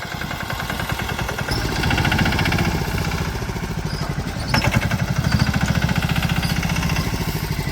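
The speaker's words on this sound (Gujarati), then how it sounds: "તે કલ્પેશ છે ને સનેડાથી મંડાઈ પડ્યો છે." A sanedo farm vehicle's engine runs continuously, close and loud, with a fast rhythmic chugging that rises in intensity partway through.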